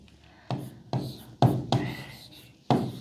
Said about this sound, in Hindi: सबसे पहली चीज मैं यहां लिखता हूं नंबर 1